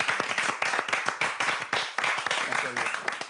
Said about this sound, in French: on peut l'applaudir, monsieur.